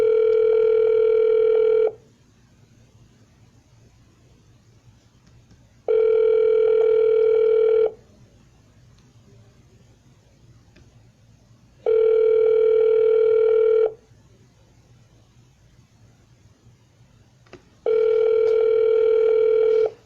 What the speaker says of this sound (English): Here's the Vortex Storm Dialer.